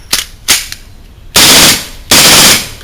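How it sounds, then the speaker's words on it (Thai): A VFC Glock 19 airsoft pistol fires on full auto: two quick short bursts, then two longer loud rattling bursts, close and with no talk. "อันนี้ ยิงออโต้อยู่นะนะ"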